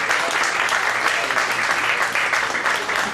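Sustained applause from a crowd at a mentalism show, a dense, steady clapping that continues throughout without pause.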